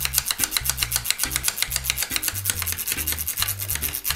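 Equalizer sliders on a 1981 Marantz PM 500 DC amplifier are pushed rapidly back and forth to clean them, giving quick, rhythmic rubbing scrapes close up, with no talk.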